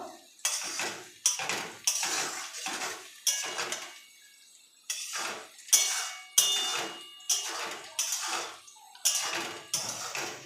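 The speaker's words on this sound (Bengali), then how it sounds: "এভাবে আমি নাড়াচাড়া করতে থাকবো" Onions being fried in a pan for an apple chicken curry are stirred with a metal utensil, producing a series of repeated scraping clatters against the pan, each followed by a brief sizzle, with a short pause midway.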